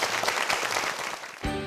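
Steady applause from a lecture audience fills the clip, ending with a brief low thump.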